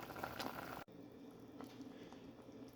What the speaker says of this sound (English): Alright, the soup is boiling.